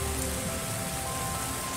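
Steady rain patters across the landscape of the video game Terra Nil, a dense, even hiss with no gaps, heard alone at a moderate level throughout.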